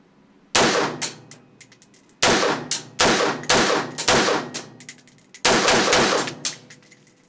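Shots from a Verney-Carron firearm at a shooting range, four loud, sharp reports spaced irregularly about a second or more apart, each ringing off in a metallic tail, close to the microphone with no talking.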